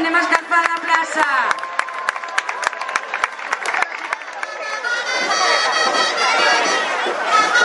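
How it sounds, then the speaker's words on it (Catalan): Crowd in a town square during a Festa Major celebration in Masquefa claps and cheers loudly and continuously, dense rhythmic applause with chatter mixed in throughout. "Un aplaudiment, anem a escalfar la plaça."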